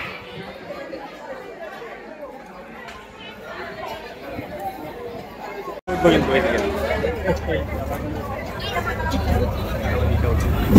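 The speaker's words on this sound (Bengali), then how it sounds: "দেখুন স্টেশনে কিন্তু প্রচুর ভিড়।" A dense crowd at a busy railway station, a continuous babble of many overlapping voices that grows louder and closer partway through, with scattered footsteps and movement.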